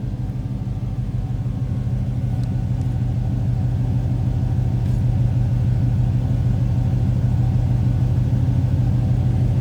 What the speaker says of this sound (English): Nice little rumble. Nothing crazy over the top as far as exhaust.